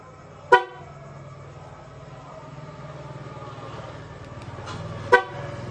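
Two short, sharp car horn beeps several seconds apart from a Mercedes-Benz SLK200 1.8, heard close over a low idling engine hum.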